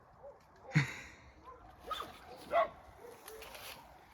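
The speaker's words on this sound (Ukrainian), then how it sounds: "Ти відгавкаєш песику?" A small pet dog gives a few short, sharp barks and yips at a moderate distance, spaced out over several seconds in an outdoor setting during apple picking.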